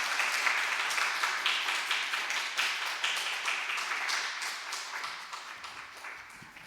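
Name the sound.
welcoming applause from the youth group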